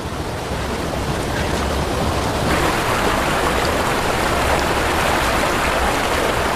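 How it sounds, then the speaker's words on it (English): Steady, dense rain hiss with no pauses, loud and close, like a heavy downpour or rushing water. "The rains came late."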